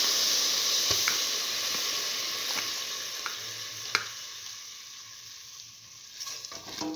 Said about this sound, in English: Mix thoroughly. Keep on sauteing.